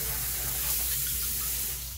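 Vodka pours steadily into a pitcher of blended watermelon for a summer cocktail, a close, continuous liquid splash and trickle lasting the whole stretch without talk.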